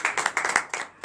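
A congregation at a morning prayer service in Benin claps together in a quick, irregular rhythm, the bright hand claps moderately loud and close with no voices over them.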